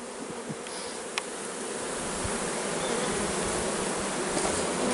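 A dense swarm of bees in Jamaica hums steadily and close, a continuous buzzing drone that swells slightly louder as it goes on.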